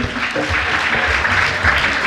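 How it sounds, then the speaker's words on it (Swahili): Applause for dormitory leaders at a seminary graduation certificate ceremony in Moshi: a short burst of dense, steady clapping from a seated crowd, fairly loud and without a break. "Jamani tusichoke kuwapa makofi wanastahili."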